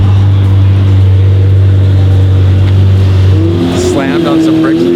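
Lamborghini Murcielago with a manual gearbox, just rebuilt, revving loudly and close up: a steady low engine drone that swells into a higher rising rev near the end, with people talking over it.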